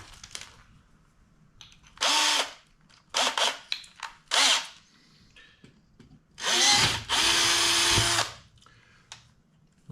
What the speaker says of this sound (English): We just need to drill out a hole.